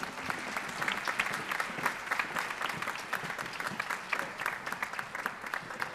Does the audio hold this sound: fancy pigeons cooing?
no